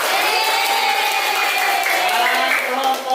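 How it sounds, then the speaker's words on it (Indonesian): Classmates clap together in a classroom after a student group finishes presenting, a steady, dense patter of applause with voices chattering underneath, fading slightly at the end. "Tepuk tangan."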